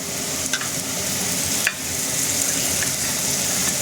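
Dried fish, small potatoes and pumpkin greens fry in a pan with a loud, continuous sizzle, broken by a couple of sharp clinks of a utensil stirring the mixture, close up and with nobody talking.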